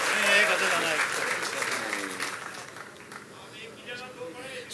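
Audience applause at a mushaira poetry recitation, Jashn-e-Rekhta 2016, fading over several seconds while voices murmur and speak beneath it.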